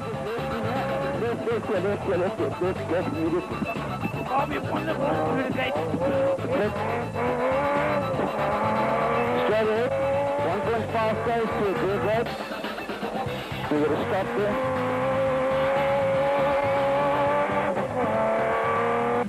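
A rally car at speed on a gravel stage in the Magalies 400, its engine revving hard and rising and falling through gear changes, loud and continuous from inside the cabin.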